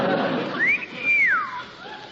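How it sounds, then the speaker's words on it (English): A sailor on a street corner gives a clear rising-and-falling whistle, a single sustained call of about a second, close and distinct over a faint background. "It's that sailor on the corner. He's whistling."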